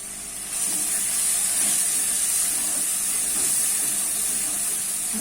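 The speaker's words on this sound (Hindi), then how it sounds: "मसाला बड़े अच्छे तरीके से फ्राई हो गया" Spice masala for a ridge gourd curry fries in a pan. A soft hiss swells in after a quiet half second and then holds as an even, close sizzle with faint crackles, with no voices.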